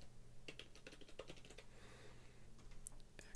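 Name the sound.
typing on a computer keyboard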